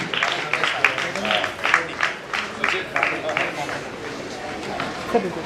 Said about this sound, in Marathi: टाळ्यांचा आवाज जोरात झाला पाहिजे.